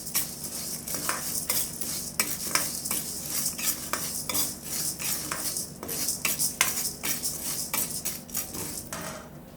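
Chana dal roasts in a pan while a spoon stirs it, making close, rapid metallic scrapes and rattles over a soft sizzle, with no talk.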